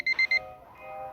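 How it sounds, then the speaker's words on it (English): Kerbal Space Program's alarm alert plays three quick, bright electronic beeps in a row, clean and close, followed by a soft lingering tone. "it sounds a nice, hard-to-miss audio alert."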